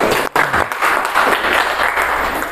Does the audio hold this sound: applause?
yes